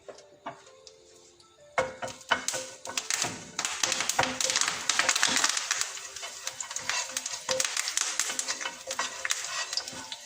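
Curry leaves dropped into hot oil for a beef coconut roast crackle and sizzle loudly up close, starting quiet then bursting into dense spitting with sharp taps and stirring knocks throughout.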